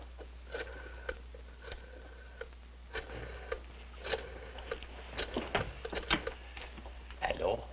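A telephone being dialed indoors in a sitcom scene, with brief tones and clicks scattered through the clip, mixed with faint background talk and a steady low hum.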